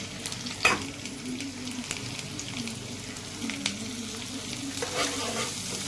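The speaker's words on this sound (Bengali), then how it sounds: "এবার একে আমি ভেজে নেবো মাত্র আমার মশলা ভাজা হয়ে গেছে" Oil sizzles steadily in a pan as fish-marinade spices fry for pomfret, with occasional scraping stirs and clinks over the constant crackling fry.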